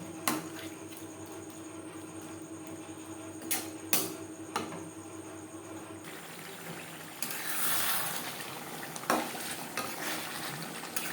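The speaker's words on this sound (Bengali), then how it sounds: "মশলা ও মাছের তেলের সাথে পেঁয়াজ বেশ ভালো করে মিক্স করে দেব।" Sliced onion is stirred with spices and bhetki fish oil in a pan, making quiet clinking and scraping over a faint sizzle, with a louder stretch of scraping partway through.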